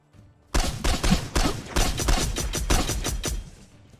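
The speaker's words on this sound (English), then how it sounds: "I just wasted so many shots." Loud rapid gunshots in the survival game Miscreated, a close burst of about a dozen sharp shots fired in quick succession before fading.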